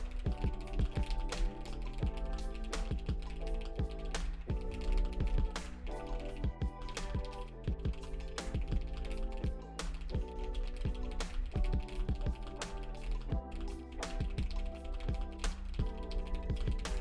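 Mechanical keyboard with tactile switches being typed on, a steady stream of quick, close clicks and clacks with a faint rattly texture and no talking over it.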